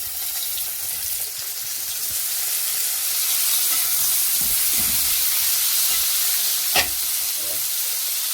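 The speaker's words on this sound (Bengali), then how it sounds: "ভালো করে ভাজা হয়ে গেছে, এবার একটু টমেটো দিয়ে দিচ্ছি।" Chopped onions and tomato fry in a pan with a steady, even sizzle and hiss throughout, punctuated by a few faint stirring scrapes and one brief clink, with no voices.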